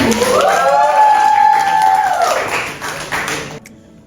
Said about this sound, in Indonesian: Tepuk tangan buat Fatan.